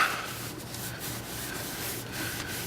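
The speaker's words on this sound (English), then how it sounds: "taking a buffing cloth, we use a baby diaper, and buff it out" Soft cloth rubbing on a plastic RV mirror housing, buffing with a baby diaper: a steady, close, hissy friction sound with slight back-and-forth swells, alone without talk.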